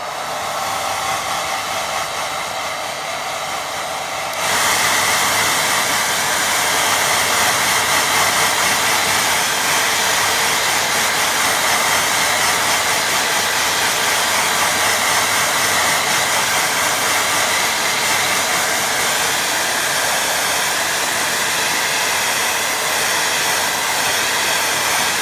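A hair dryer blows loudly and steadily, kicking up to a higher, harsher setting a few seconds in and running without a break.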